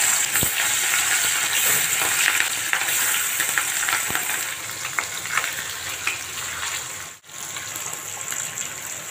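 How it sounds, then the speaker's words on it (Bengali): Fish pieces sizzling in hot oil in a kadai, a close, steady crackling fry that runs continuously with small pops and one brief dip in intensity, no voices over it. "তো কড়াইতে আমি তেল দিয়ে দিয়েছি, তেলও গরম হয়ে গেছে। তো আমি মাছগুলো এবার তেলে ছেড়ে দেবো।"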